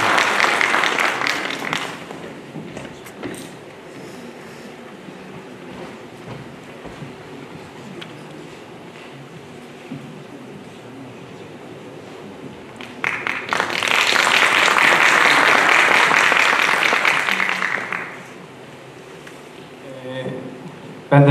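Audience applause at a Ramadan conference hall event, a dense burst of clapping swelling for several seconds and then fading, with a shorter patch of clapping earlier and quieter room noise between.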